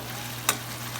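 Onion and mushroom stir-fried for Lao cooking: a brief, quiet sizzle with a single sharp scrape or clack from the stirring.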